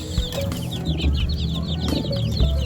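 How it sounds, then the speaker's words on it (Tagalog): Native chickens cluck at a pigeon loft, with steady bird chatter and chirping that runs through the whole short stretch at moderate volume. "Native chickens."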